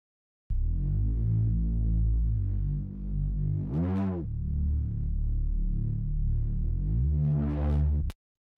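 Sustained synth chords drenched in a lush re-space reverb with thermal saturation, two swelling sweeps rising near the middle and end, played alone with no talk, then cutting off abruptly.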